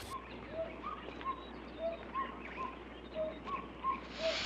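A gecko's short high tonal calls repeat at a steady pace, about ten brief chirps over a constant background hiss, moderately faint and with no talking.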